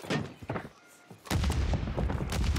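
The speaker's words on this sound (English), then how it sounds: "That's me on nades, by the way. That's my nades." Grenades explode in Warzone 3, a short series of sharp thumps followed by a sustained loud burst of blasts and gunfire-like cracks, close and dense.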